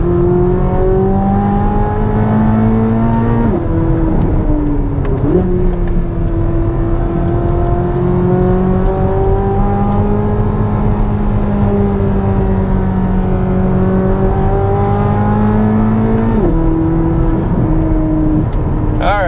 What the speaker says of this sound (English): So I'm going to go all the way to track because I want the exhaust valves all opened up.